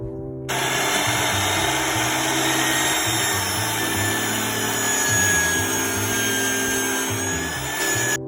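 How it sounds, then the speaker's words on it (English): A table saw cuts the groove off the edge of a wooden board for a planter box, a loud continuous whine and rumble of the blade running through the wood from start to finish, no talking. "So I'm going to slice off the groove on the table saw here."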